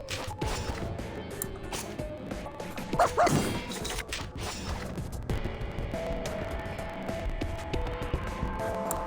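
A puppy barks in the video game Reverse: 1999, a few short yaps and bow-wow barks standing out around the middle over a steady musical game soundtrack, with a crash-like hit mixed in.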